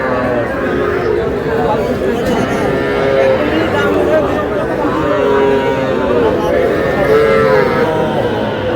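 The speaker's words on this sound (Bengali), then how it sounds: "ষাঁড় বাচ্চা।" Young bull calves moo repeatedly at the Ambari cattle market. The lowing is close and loud and sounds several times under busy crowd chatter and bargaining voices.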